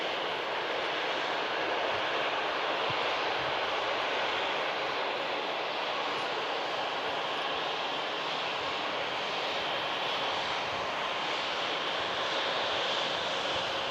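A TAP Air Portugal airliner taxies at Manchester Airport, its jet engines producing a steady, loud broadband roar and whine that stays constant throughout without voices.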